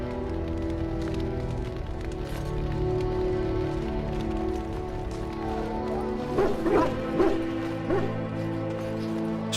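War hounds bark and yip in an army camp in the game Dragon Age: Origins, scattered barks rising toward the end over a constant rain-like ambient hiss.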